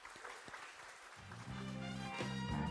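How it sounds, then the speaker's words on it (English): A panel discussion ends with the audience giving a round of applause, faint at first, then swelling into steady clapping that holds to the end. "please also give round of applause for our panel"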